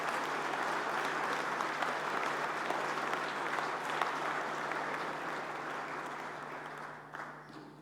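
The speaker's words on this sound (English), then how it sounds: "you deserve a big round of applause" Sustained applause from a conference audience thanking a panel of space agency heads, a dense wash of clapping that holds steady for several seconds and then starts to thin out near the end.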